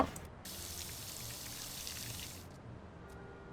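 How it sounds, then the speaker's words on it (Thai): A character bathing in the life-simulation game inZOI, with a steady hiss of running shower water that starts abruptly, holds for a couple of seconds, then cuts off, leaving quiet room tone. "ให้แมรี่อาบน้ำก่อน แมรี่ต้องการอาบน้ำอย่างด่วน"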